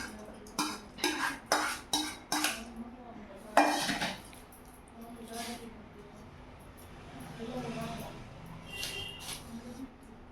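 Cooked rice being mixed in a bowl for carrot and coconut rice, with a run of about six sharp, evenly spaced scraping clinks near the start, then softer stirring under a steady background.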